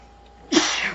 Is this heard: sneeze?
yes